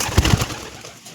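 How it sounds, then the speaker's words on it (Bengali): A pigeon coos close by, giving two or three soft, low, throaty notes in quick succession that then fade away. "এই ছিল পায়রা"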